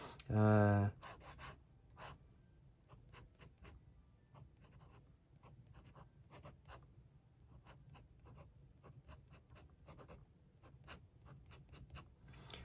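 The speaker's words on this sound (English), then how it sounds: "do a little bit more writing with this pen. So let's try writing." A Zebra Fuente fountain pen scratches across paper in soft, rhythmic strokes, quiet and close, continuing steadily. A brief loud vocal sound opens the clip.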